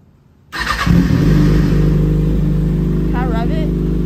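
A 2014 Ford Mustang GT V8 on air suspension cranks and fires up after half a second, then settles into a loud, deep, steady idle close by.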